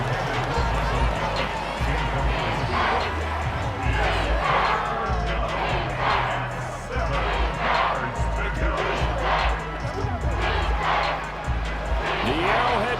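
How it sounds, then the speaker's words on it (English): At Arrowhead during a football game, a stadium crowd roars as a dense, continuous wall of noise with surging swells, loud and close throughout, while a commentator's voice runs over it. "The Arrowhead crowd in full roar"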